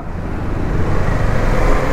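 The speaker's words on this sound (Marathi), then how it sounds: "ॲज युज्युअल माणगावमध्ये ट्रॅफिक आहे" Road traffic in Mangaon town on a weekend, with cars and other vehicles making a steady, loud rumble of engines and tyres close by and no talking.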